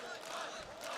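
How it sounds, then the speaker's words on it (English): Crowd noise from a live Counter-Strike esports match, a steady broadband roar of cheering spectators filling the background throughout, loud and continuous. "You can hear the crowd in the background as well."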